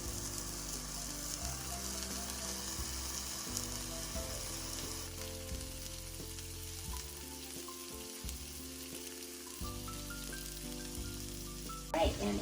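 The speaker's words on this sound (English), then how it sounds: "So now we're gonna sear the meat while the oven is still doing the last bit of preheating." A leg of lamb sears in a hot pan, giving a constant crackling sizzle that runs beneath background music with sustained tones, ending with a brief louder clatter.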